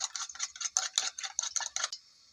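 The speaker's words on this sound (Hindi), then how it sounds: "अब मैं अंडे को फेंट लेती हूँ" A fork beats an egg seasoned with red chili and salt in a bowl, producing about a dozen quick rhythmic clinking taps close by, ending in a brief faint ring.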